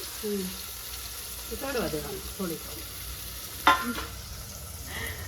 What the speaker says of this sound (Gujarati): હિંગ નાખી અને બધું શાકભાજી નાખી દીધું એટલે વઘાર થઈ જાય